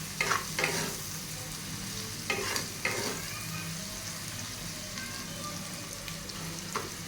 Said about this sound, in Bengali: পুরো পেঁয়াজটাকে একদম ব্রাউন কালার করে নেব।